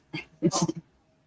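A single short, sharp sneeze, close and abrupt, with a brief breathy intake before the burst and quiet afterward.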